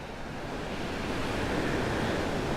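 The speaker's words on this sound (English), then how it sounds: "Just as you see the waves crash along the beach, you're matching your breath." Ocean waves wash onto a beach on Maui, a steady, rushing roar of surf that swells slightly louder over a few seconds, moderately distant and alone with no voices.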